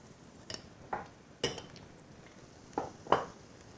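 Spoon scraping and knocking in a frying pan while minced meat is crushed and browned with its back, five separate clinks and scrapes spread over a quiet background.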